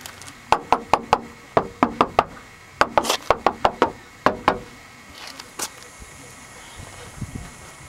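Knuckles rap on an undeadened car door with no sound-deadening layer, giving a series of sharp, ringing, hollow knocks in quick bursts of three or four, then a couple of fainter taps before fading out.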